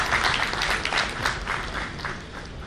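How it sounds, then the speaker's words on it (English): A large audience at a national convention's technology session breaks into steady, dense applause, with many hands clapping continuously throughout. "big round of applause."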